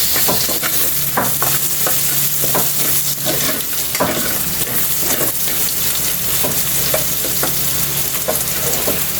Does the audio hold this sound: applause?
no